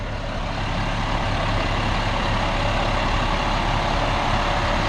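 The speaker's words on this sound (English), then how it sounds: "Look at these trucks right here." Big trucks, including a plow truck, rumble with a steady loud engine drone, near and continuous with no distinct events.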